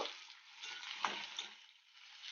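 Potatoes and tomatoes sizzling softly in a pan, a steady frying hiss with a spoon scraping and stirring.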